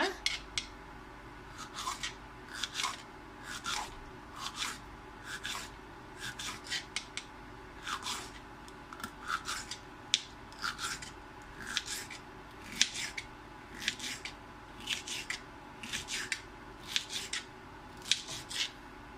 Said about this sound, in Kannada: ಇಷ್ಟು ತೆಳಗಾಗಿ ಕಟ್ ಮಾಡ್ಕೋಬೇಕು